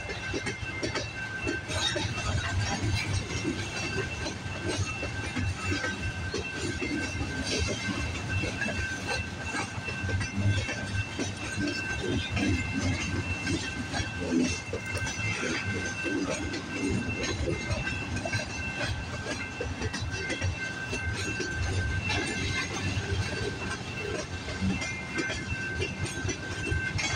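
A freight train with tank cars passing at Delray Junction, a steady close rumble and clatter of wheels on rails that continues loud and unbroken throughout, with a faint squeal above.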